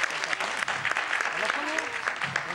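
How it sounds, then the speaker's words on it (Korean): Church congregation applauding at a Korean community gathering, a dense steady wash of many hands clapping with a few voices and speech-like tones mixed underneath. "자, 우리 박수 해주십시오."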